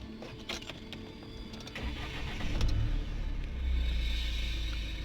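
A Mahindra Scorpio S11 engine is switched on. Faint clicks come first, then the engine catches and settles into a steady low idle rumble, heard close and alone.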